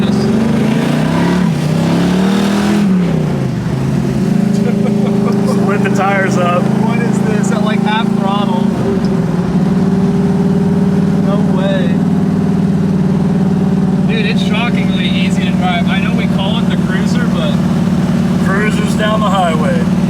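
A 1968 Camaro with a carbureted 540-cubic-inch Cruiser big-block V8 pulls away and accelerates. A deep, steady engine rumble rises in pitch early on and then holds a loud, constant drone, with someone talking over it.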